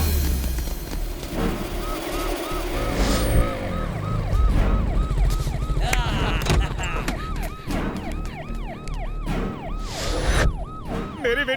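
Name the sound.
ambulance siren in traffic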